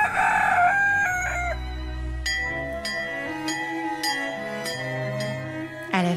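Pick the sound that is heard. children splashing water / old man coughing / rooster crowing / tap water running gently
rooster crowing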